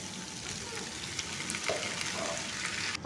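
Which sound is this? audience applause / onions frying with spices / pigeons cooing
onions frying with spices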